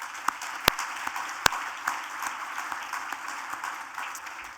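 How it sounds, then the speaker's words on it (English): An audience at the Aspen Cyber Summit welcome remarks applauds with a steady, moderately distant patter of clapping and a few sharp individual claps standing out near the start. "If you could join me in a round of applause."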